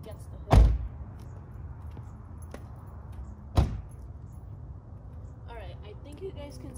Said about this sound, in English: let me just close these two doors